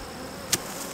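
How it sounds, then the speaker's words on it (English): Honeybees buzz from an unsmoked hive whose lid has just been popped open, a close, dense hum with one brief sharper buzz of a bee passing near. "when you don't smoke the bees and you pop the lid like this, the bees are telling you, hurry up and get that lid back on"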